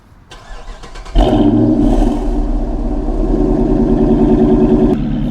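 A Dodge Charger Hemi V8 starts with a brief crank at about one second, then settles into a loud, steady, deep rumbling idle close by with a slight lope, running on without talk.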